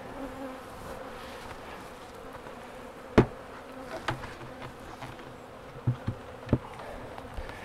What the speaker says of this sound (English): some of the field bees that are in this upper super are going to go back to the original hive